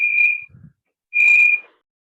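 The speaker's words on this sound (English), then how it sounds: "Somebody is whistling." Two clear, sustained whistle notes come through an unmuted microphone during an online class, separated by a brief pause and a soft low thump.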